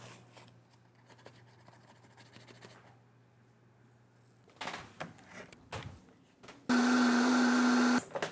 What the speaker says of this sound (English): The very Victorian act of using your Vitamix.